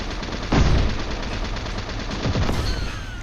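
Sniper rifle fire in a first-person shooter video game: a loud, close report near the start, followed by a steady run of sharp repeated shots and a second heavy burst later, with no talking.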